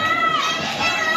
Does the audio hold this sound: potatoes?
no